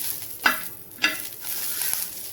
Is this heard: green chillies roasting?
yes